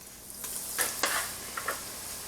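Food fries in a pot of hot oil rather than a fryer, a continuous bright sizzle with a few scraping stirs and crackling pops, close and steady, with no voices.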